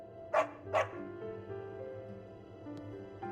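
A dog in the video game Psychonauts 2 gives two quick barks close together near the start, over a soft, steady musical backdrop, then a faint short yip later.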